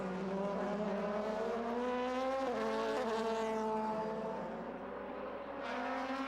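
A DTM race car from the 2003 season limping to the pits, engine note droning loud and close with rising and falling harmonic pitch, no talk over it.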